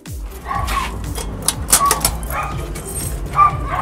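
Two pet dogs bark and yip close by during a walk, several short sharp barks scattered over a few seconds with some whimpering in between.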